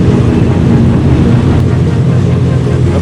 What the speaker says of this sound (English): Look how many jet skis are in a little mangrove canal in Keylargo.